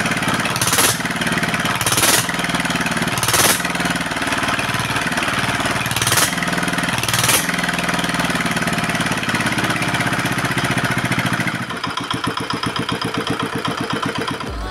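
An R175 single-cylinder diesel engine runs steadily on a test after a new crankshaft fitting, a loud continuous rapid knocking drone with a few brief hissing bursts, shifting to a choppier, uneven chug near the end; no talk.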